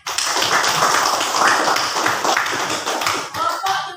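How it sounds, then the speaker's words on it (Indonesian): Classroom applause from a group of university students after a presentation, a dense, continuous patter of many hands clapping close by that thins and breaks up near the end. "Tepuk tangan."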